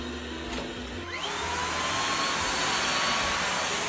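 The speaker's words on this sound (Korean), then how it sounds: "로봇 청소기 소음은 청소기랑 비교하면 엄청 시끄러울까?" A Xiaomi X10+ robot vacuum cleaner runs indoors with a steady, loud whooshing motor roar and a rising whine as it spins up, continuous and close with no talking.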